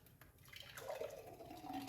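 Pineapple juice with cucumber, ginger and lemon is poured into a large container, making a faint, continuous liquid trickle and splash that builds over a couple of seconds without any talk.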